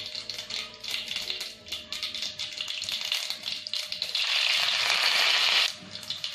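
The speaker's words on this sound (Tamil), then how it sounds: "கடுகு, உளுத்தம்பருப்பு தாளிக்கணும்." Mustard seeds and urad dal splutter in hot oil for a prawn and bottle gourd poriyal, crackling and popping densely and close, then swelling into a steady sizzle before easing off.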